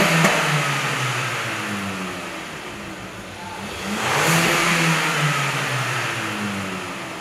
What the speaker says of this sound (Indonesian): udah denger ya suara knalpot dari Hyundai Creta N-Line ini